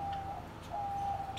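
Caged lovebirds give faint, sparse chirps and a steady thin tone in a quiet room, a few soft calls over low background noise.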